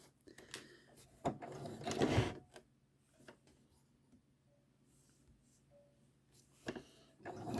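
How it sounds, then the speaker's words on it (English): Home sewing machine back stitching fabric for a boxy zipper bag, short close runs of whirring stitches with pauses and small handling clicks between, fairly quiet overall. "Needle down, back stitch back to the beginning."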